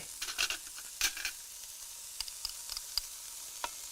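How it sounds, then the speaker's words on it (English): Freshly crushed garlic frying in a pan with dried herbs nearby, a steady soft sizzle broken by a few scraping stirs and light clicks, close and fairly quiet, with no talking. "So we'll scrape that aside and put in the little bit of garlic."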